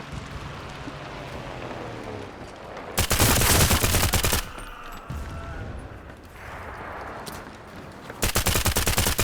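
Bursts of automatic gunfire from World War II infantry combat in the shooter game Enlisted, two loud sustained volleys near the start and end, with quieter rattling shots and battle noise in between.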